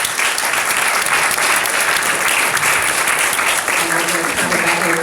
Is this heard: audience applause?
yes